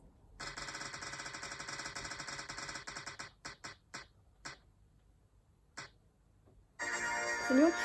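Prize wheel spinning with a continuous fast ticking that breaks into slower separate ticks as it coasts to a stop, followed by a brief pause and then voices and music.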